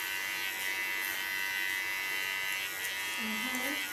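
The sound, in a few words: hair clipper shaving the nape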